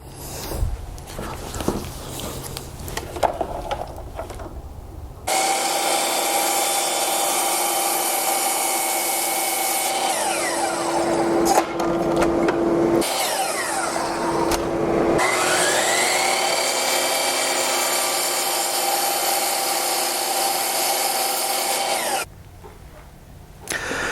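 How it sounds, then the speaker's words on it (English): Miter saw cutting wood trim for a tile trivet: a loud motor whine spins up and holds for about seventeen seconds, its pitch shifting as the blade bites through the wood, then cuts off, alone and close. "And we'll do this at the miter saw."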